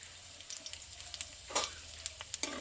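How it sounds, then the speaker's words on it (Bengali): A dried red chili and half a spoon of whole cumin seeds fry in oil as a tempering, a low hiss dotted with sharp little pops and crackles, with brief louder bursts of sizzle. "দিয়ে ফোড়নটা আমি একটু ভেজে নেব"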